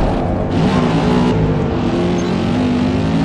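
A car races in Forza Motorsport, a tall muscle car driving as if on ice, its engine droning loud and steady throughout with some rising revs, with no talking over it.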